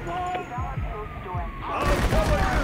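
A fusillade of gunfire in GTA V, low thuds and booms repeating over rumbling game noise, growing denser and louder in the last second.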